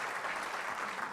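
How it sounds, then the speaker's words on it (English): Audience applause after a public lecture by Norway's Foreign Minister: sustained, even clapping from a crowd, steady and fairly loud throughout with no speech over it. "Once again, round of applause for Espen Barth Eide, Norwegian Foreign Minister."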